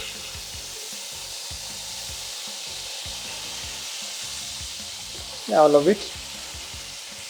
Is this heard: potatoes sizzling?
yes